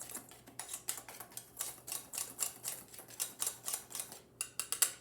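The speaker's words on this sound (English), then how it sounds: "And whisk together." Cinnamon, cloves and salt are whisked together in a bowl, giving quick, regular ticking strokes close up, about a dozen clicks in a row with a short pause near the end, and no voices.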